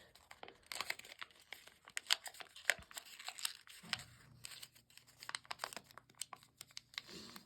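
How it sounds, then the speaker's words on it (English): Paper being gently folded and creased for an origami ingot hat, soft close crinkles and rustles in irregular bursts, quiet and alone, with a faint low hum in the background. "So open it up and just gently kind of fold it in along"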